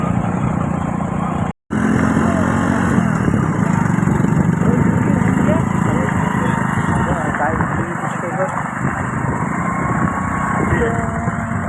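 A motorbike engine drones loud and steady throughout, close up, as the bike climbs a steep, rough, partly unpaved road with friends riding behind. One brief dropout breaks the drone, and the engine noise runs on without a break afterward.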